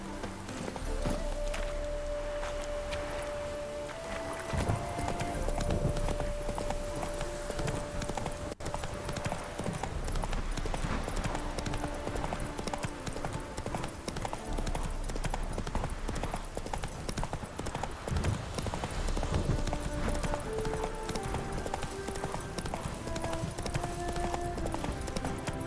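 Roach, Geralt's horse in The Witcher 3: Wild Hunt, trotting with rhythmic clip-clop hoofbeats that continue steadily throughout, layered over in-game ambience and music, with occasional faint speech.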